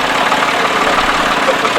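A Leyland 154 tractor engine idles with a steady, dense chugging rumble, loud and close, at an outdoor vintage vehicle gathering, with a voice talking over it.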